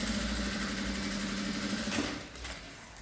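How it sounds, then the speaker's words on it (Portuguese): A sewing machine runs a continuous whirring stitch along the edge of a fabric lining for a sublimation pliers holder, steady and close, easing off slightly near the end, with no voices. "faço uma costura de borda, uma costura de segurança apenas, bem na beiradinha mesmo"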